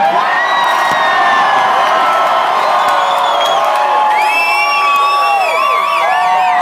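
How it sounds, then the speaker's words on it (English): Live concert crowd in Melbourne cheering and whooping loudly, a dense sustained roar of many voices with rising shouts and whistles, no distinct clapping standing out. "Everybody just clap, and clap, and clap, and make some fucking noise."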